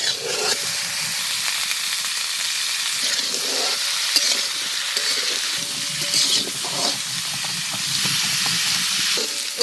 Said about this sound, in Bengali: আলু ওলকপি ভেজে নেব